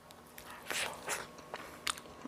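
Close-up bites into baked boiled cabbage with onion: a few soft, moist crunches and chewing sounds in short bursts, quiet and near.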